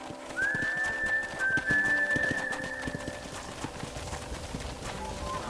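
Steady clip-clop of horse hooves with birds chirping and a whistle-like tone above, ambient outdoor soundscape from the video game Red Dead Redemption.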